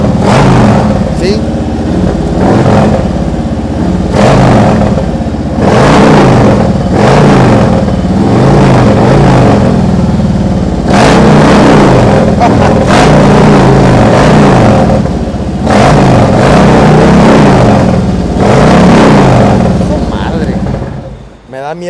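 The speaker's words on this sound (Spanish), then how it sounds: "Es un motor muy grande. Trae los escapes acá sonoros, esos tiracrema, para así llamar es la atención." A big-engined Harley-Davidson motorcycle with loud aftermarket exhausts revs repeatedly, surging and dropping in a series of roaring bursts at close range, with people talking over and between the revs.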